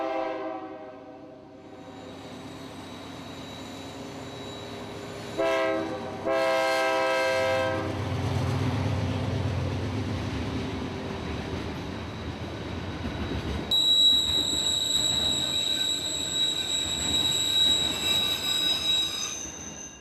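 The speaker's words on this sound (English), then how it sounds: "came northbound train 276 with some novelty power" A northbound freight train passes at Austell, Georgia, its horn blasting in a loud chord early on, then steel wheels squeal in long piercing tones over heavy rumbling and rhythmic clatter of the cars rolling by.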